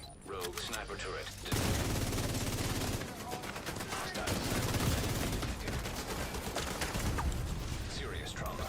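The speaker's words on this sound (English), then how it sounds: "Rogue sniper turret." Rapid gunfire from a rogue sniper turret in a shooter video game, loud and sustained with dense overlapping shots and mechanical clatter after a brief quieter start.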